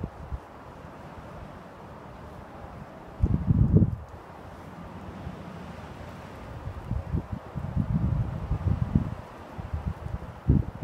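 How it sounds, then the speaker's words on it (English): Gusty wind blowing across an open field, a steady low rush broken by louder buffeting gusts near the mic, with no speech. "lot of wind."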